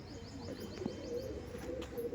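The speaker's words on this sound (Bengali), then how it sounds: "স্টার কালাঙ্কা আন্ধ্রা পায়রা।" A Star Kalanka Andhra pigeon gives soft, repeated low coos, close by, with a faint chirp in the middle and steady room noise underneath.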